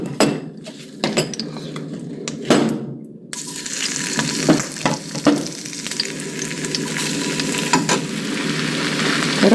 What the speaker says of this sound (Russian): И жарим 15 минут.